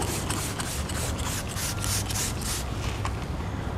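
A spray bottle mists a panel on a 79 Series Land Cruiser during a vinyl wrap install, a series of soft rhythmic hissing pumps in a steady run, close and alone with no talk.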